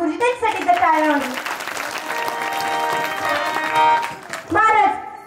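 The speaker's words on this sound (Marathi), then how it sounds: "त्यांच्यासाठी टाळ्या वाजवा" An audience at a Marathi kirtan claps steadily under a harmonium's sustained chords, while a singing voice rises at the start and again near the end over the music and applause.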